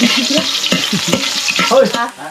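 Ginger sizzles and crackles loudly in a hot pan while being stirred, close and continuous with scraping strokes.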